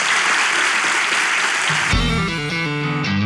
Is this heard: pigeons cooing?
no